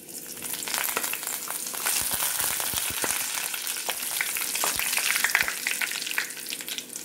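Dried red chillies frying in hot oil for a beetroot pickle, with a dense, continuous crackling sizzle and intermittent sharp pops and stirring scrapes, close and fairly loud.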